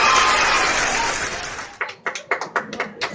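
Applause from a church congregation, a dense wash of clapping that fades out, followed by a handful of separate, sharper claps near the end.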